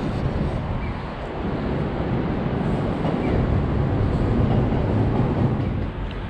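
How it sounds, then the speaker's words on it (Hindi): A Chiba Urban Monorail suspended train passes along its track in an urban setting, giving a steady, loud broadband rumble and rush that fills the whole stretch, with wind buffeting the microphone. "मुझे रिकॉर्ड करनी है जाती हुई मोनोरेल"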